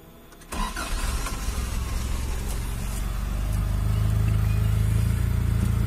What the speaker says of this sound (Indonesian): kita juga wajib coba untuk nyalakan mesinnya